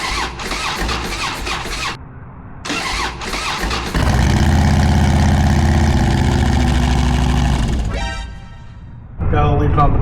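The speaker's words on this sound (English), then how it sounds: "the bike won't stay running without me holding the jump pack on it" Harley motorcycle engine cranking in short bursts while hooked to a jump pack, then catching and running at a rough idle for several seconds before faltering and restarting, with talk between attempts.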